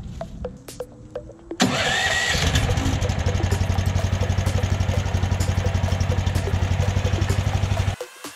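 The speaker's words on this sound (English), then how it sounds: "So there's the shredder chipper, and we're gonna just take it one branch at a time." A 14 horsepower wood chipper shredder starts up and runs steadily with a loud, rhythmic pulsing chug for several seconds, branches feeding through, before cutting off near the end.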